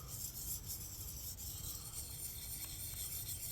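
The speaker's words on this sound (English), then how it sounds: "I'm going to place this diamond sharpener on here and just go in nice little circles" A diamond sharpener rubbed in small circles along a knife blade for a Scandinavian grind, a quiet continuous scraping rasp, close and steady with no voices.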